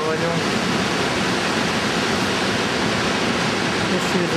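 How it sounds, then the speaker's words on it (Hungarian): A waterfall in Norway roars as a steady, dense broadband rush of falling water, loud and continuous with no break. "És vízesés."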